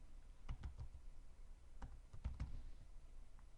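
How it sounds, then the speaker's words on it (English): Typing on a computer keyboard during CAD work, a few soft scattered key clicks in small bursts, faint and close in a quiet room. "I'm going to type in description."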